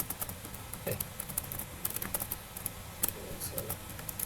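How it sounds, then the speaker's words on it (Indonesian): Fast, light keystrokes on a computer keyboard tap out an irregular patter of clicks over a faint hiss, close and fairly quiet throughout. "kita ketik saja"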